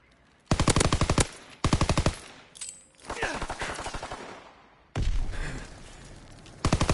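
Rapid automatic gunfire from a PS4 shooter game, loud and close, in several long bursts separated by short pauses, with quieter scattered shots and game noise between them and no talk.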